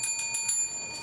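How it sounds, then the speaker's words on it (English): A small bell rings a few quick, bright dings in a short burst, close and clear with no talking. "Ring the bell."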